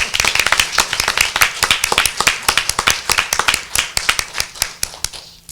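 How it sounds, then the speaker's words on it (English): Conference audience applauding at a fall gathering, a loud, close burst of brisk, dense clapping that holds steady for several seconds before thinning slightly at the end. "Can we applaud for you right now?"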